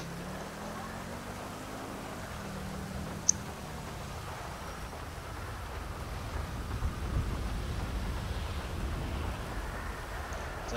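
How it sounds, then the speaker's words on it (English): A steady wash of heavy rain with low rumbling underneath, like distant thunder, in the video game GTA V, plus a faint tone gliding at the start and a single sharp click. "Dang, it's really raining. Rain coming down hard."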